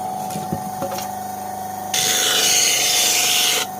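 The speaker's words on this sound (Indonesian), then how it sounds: "Diamplas pegangannya itu loh." Sandpaper rubs over the handle of a homemade wooden cutting board, a few light scrapes first, then a loud sustained stretch of rasping friction before it stops.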